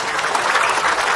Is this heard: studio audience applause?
yes